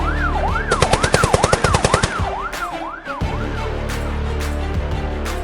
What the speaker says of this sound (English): At the mansion, chaos erupted as gunshots rang out.